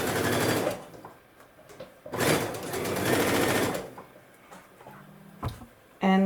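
A sewing machine stitches quilt binding strips set a quarter inch from the raw edge, running in two loud close bursts with quieter gaps and small clicks between.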